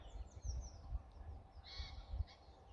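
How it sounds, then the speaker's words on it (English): Outdoors in the countryside, birds call faintly in the distance, with a few harsh, crow-like caws over low rumbling wind noise. "tell me what birds I can hear tweeting away in the background"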